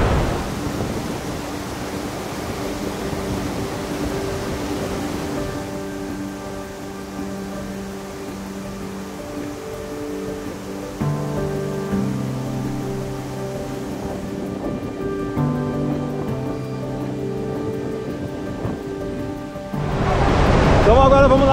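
Iguazu Falls roars below a walkway, a steady broad wash of falling water with heavy spray and mist, continuous and close throughout with no talk, louder and brighter near the end.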